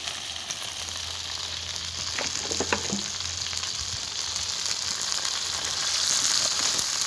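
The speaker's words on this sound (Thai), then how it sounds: "ขั้นตอนการทอดนะครับ" Sugarcane beetles deep-frying in hot oil, a steady close hiss of bubbling fat that swells louder toward the end, with a few faint clinks of a utensil, no speech.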